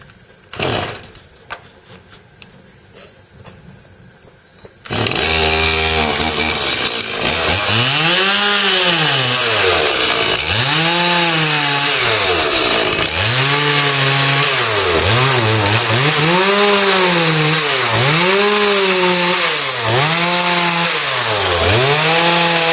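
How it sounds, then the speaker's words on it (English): A chainsaw cuts grooves into a wooden log for mushroom propagation. After a few quiet seconds it roars in loud and close, its engine whine rising and falling in steady repeated cycles as the blade works through the wood. "chainsaw."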